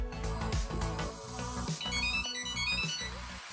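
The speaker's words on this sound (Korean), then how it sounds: "스마트 태그가 숨겨져 있으면 소리 울리기 아이콘을 선택하여 태그에서 소리가 울리도록 할 수" Samsung Galaxy SmartTag ringing so it can be found, a bright chiming melodic ringtone playing continuously for a few seconds, close and clear.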